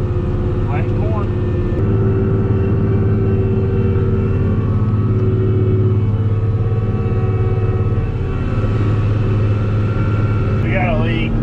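A tractor pulling a corn planter during spring planting, its hydraulics leaking fluid, gives a steady whine layered over a continuous loud engine drone, with brief chirpy sounds near the start and end.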